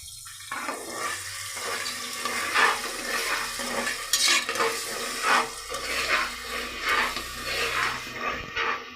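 Ground mint paste mixture stirred and frying in oil in a pan for rice bath, with soft sizzling and irregular scraping stirs that rise and fall in bursts.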